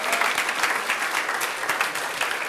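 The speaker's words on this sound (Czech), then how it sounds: "Děkuju za upřímný potlesk." Theater audience at a Prague club comedy show giving a steady round of applause, many hands clapping together at a constant, moderate level throughout with no speech on top.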